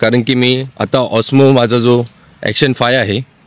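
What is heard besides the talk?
No everyday noises stand out.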